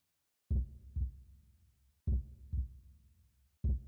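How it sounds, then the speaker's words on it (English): A deep heartbeat sound effect in a horror video game plays alone as paired lub-dub thumps, loud and close, repeating at a slow, steady pace. "Heartbeat sound effect."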